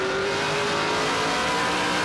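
A NASCAR Pinty's Series race car at the street-circuit Grand Prix of Toronto roars loudly and continuously at high revs, with a hint of tire squeal, close and dominant with no voices.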